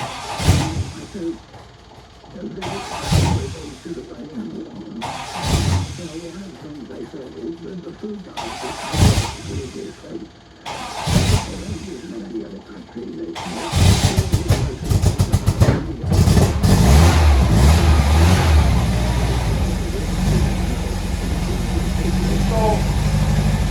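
A 1965 MGB with an automatic choke cranks in several separate starter bursts before the engine catches and settles into a loud, steady run, with people talking nearby throughout.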